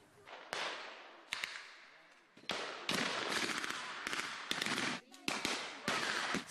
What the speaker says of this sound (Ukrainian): Стрілянина не вщухає